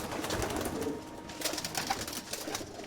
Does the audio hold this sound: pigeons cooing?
yes